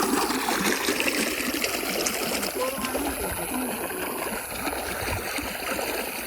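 Irrigation water runs through a channel in a village field being sown with cumin, a steady splashing, gurgling flow heard close by, with muffled voices in the background.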